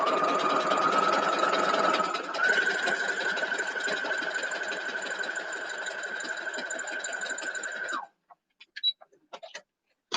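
A sewing machine stitches quilt pieces for a mini Trip Around the World wall hanging, running in one steady continuous burst for about eight seconds, then stopping, followed by a few faint handling clicks.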